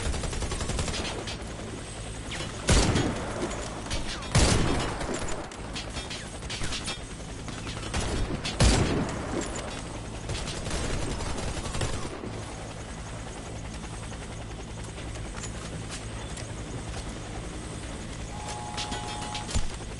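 Loud bursts of automatic rifle fire ring out in the shooter game Warface, rattling in clusters with heavy single cracks early on, then easing into quieter mechanical clicks and distant ambience with a brief electronic tone near the end.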